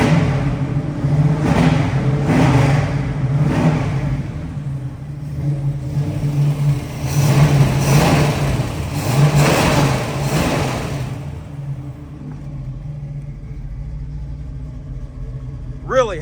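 A 1967 Chevrolet Camaro small-block V8 with Flowmaster exhausts and a 4-speed manual revs up repeatedly in loud, surging pulses, then settles back toward a burbling idle.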